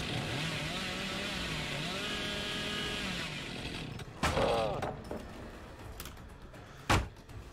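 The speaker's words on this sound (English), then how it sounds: "It's actually really fucking surprisingly difficult to kill somebody with this fucking chainsaw." Chainsaw in a video game buzzing at a steady idle and rattle, then two sharp revving bursts with short loud spikes, close and continuous with no voices.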